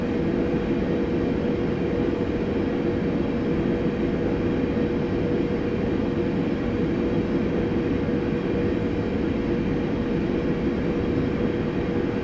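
Electric passenger train in Train Simulator 2018 rolling slowly between Bromley South and London Victoria, a steady loud rumble and hum that stays constant throughout with no voices.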